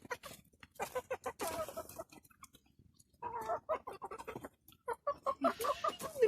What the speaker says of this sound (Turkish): Artık büyüdüler, kocaman tavuklar oldular.